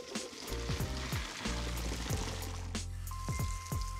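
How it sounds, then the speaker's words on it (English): Cool water pours onto freshly cooked green beans in a pot on a turned-off burner, giving a steady close splashing and sizzling wash with a few thumps and clinks of cookware. "Adding a little bit of cool water helps to stop the cooking process."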